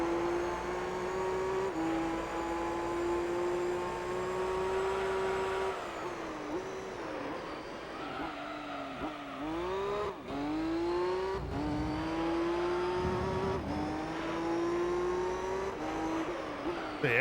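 A 1,000-horsepower race car engine in the Gran Turismo 3: A-Spec video game, a loud sustained engine drone that shifts pitch as the car revs and drops between gears, with no talk.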